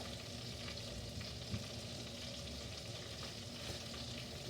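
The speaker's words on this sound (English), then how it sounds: "So there's the butter melted, guys. I'm going to stick the chicken in there now." Chicken sizzles steadily as it fries in melted butter in a big pan for Chicken Marsala, a continuous close crackle and hiss with a small clatter of movement partway through.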